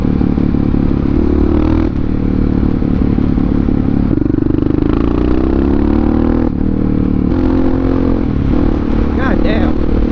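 A supermoto motorcycle accelerates hard through several gear changes, its engine note climbing and dropping close up under heavy wind rush, with the front wheel lifting on one pull.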